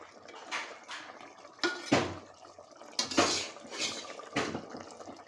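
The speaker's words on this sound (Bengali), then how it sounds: "এখন আমি মাছ আর ধনে পাতা দিয়ে দেব।" Fish and coriander leaves go into a pot of Bengali dola fish curry with star fruit, bringing a run of sharp metal clanks and scrapes of a utensil against the pot, about half a dozen close knocks with no talking.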